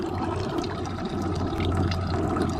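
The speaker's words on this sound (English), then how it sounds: "That's hot water coming out of there." Hot water gushing steadily from a camp water heater, a dense continuous splashing stream with a low hum beneath, close and loud without pause.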